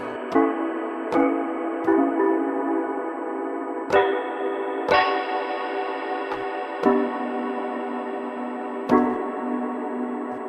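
Sustained synthesizer notes and chords play one after another, each starting with a soft attack and lingering with a slight airy texture.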